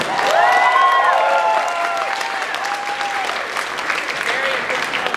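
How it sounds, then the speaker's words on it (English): An audience at HarmonyCon 2024 breaks into loud, sustained applause and scattered cheering, with a few voices calling out over the clapping. "Give a big round of applause for our VIPs."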